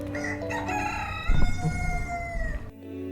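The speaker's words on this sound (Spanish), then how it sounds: "Un gallo que cacareó." A rooster crows nearby, a long rising and falling call that fills the quiet before cutting off sharply.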